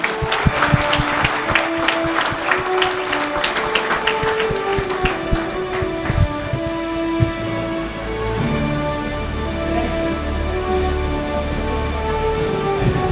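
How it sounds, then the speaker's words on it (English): An audience at an annual sports award ceremony applauds, loud and close at first, then thinning out while sustained music tones play underneath. "don't forget to give them big round of applause for their national participation."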